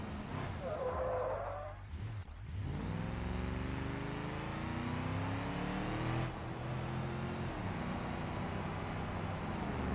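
Car engine in BeamNG.Drive revving and climbing through the gears, a close droning tone rising steadily after a brief burst of noise, with a voice briefly heard near the start.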